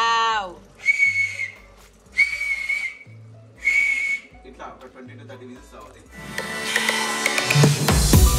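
A pressure cooker whistles while haleem cooks, giving three loud, sustained steam whistles in a row with pauses between them, followed by a harsh hissing release of steam.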